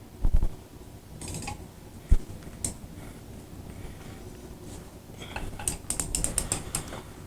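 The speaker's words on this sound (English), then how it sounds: "I'll lock my ratchet." Ratchet wrench clicking in quick bursts while motorcycle bearings are removed, with a couple of sharp knocks and a faster run of close clicks toward the end.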